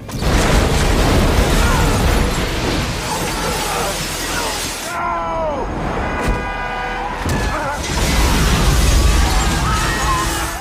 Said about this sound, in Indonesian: terjadi sebuah ledakan yang sangat dahsyat di beberapa titik